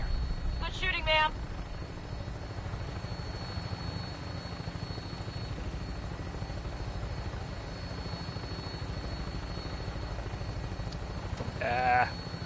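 A Vertibird aircraft in Fallout 4 lifting off, its rotor and engine drone a steady low rumble throughout, with short bleating calls at the start and end.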